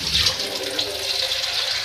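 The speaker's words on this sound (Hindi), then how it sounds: "मैं ऐड करूँगी पानी" Water pours steadily into a cooking pot holding oil for a quick chicken dish, a continuous close splashing rush with no talk over it.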